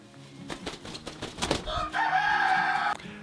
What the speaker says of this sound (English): she is our favorite chicken that we have here on the homestead